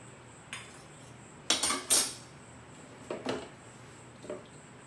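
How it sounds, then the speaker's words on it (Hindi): Metal plate lifted off a pot of smoked chicken biryani, a few close metallic clanks and scrapes with two louder clinks in the middle and lighter taps after. "अब हम इसको खोलेंगे और ये प्लेट को हम रिमूव कर देंगे।"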